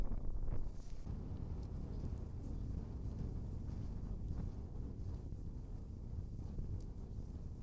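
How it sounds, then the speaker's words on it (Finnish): Wind buffets the microphone on an open Lapland fell in the Paistunturi wilderness, a steady low roar with a stronger gust at the very start. No one speaks. "Tuulee."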